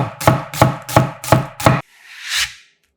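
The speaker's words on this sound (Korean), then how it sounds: "양파 4분의 1개도 곱게 채 썰어주고" A quarter onion julienned with a knife on a cutting board: five evenly spaced, crisp chops close up, then a short soft scraping sweep as the slices are gathered.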